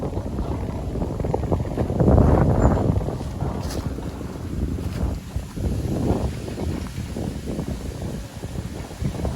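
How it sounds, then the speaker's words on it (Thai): Strong storm wind buffets the microphone in heavy, rumbling gusts, peaking briefly and then settling into a steady low roar. "ลมแรงครับลมแรง"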